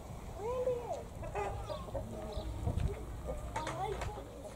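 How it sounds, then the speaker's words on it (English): Chickens cluck and squawk in a lively farmyard scuffle with an emu, with rising calls and bursts of agitated clucking close by over steady outdoor background noise. "Fracas there between the emu and the chicken."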